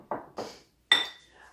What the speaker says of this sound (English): And then we're just going to whisk those ingredients together.